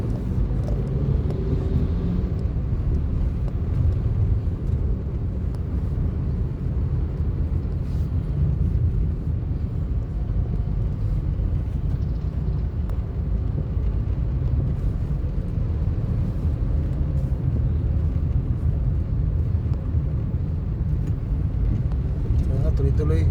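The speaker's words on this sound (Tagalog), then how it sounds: "Medyo matraffic din pala yung kahabaan ng Rodriguez ngayon" Slow road traffic along Rodriguez, a constant low rumble of engines heard from inside a vehicle stuck in congestion, steady and unbroken, with a voice talking throughout.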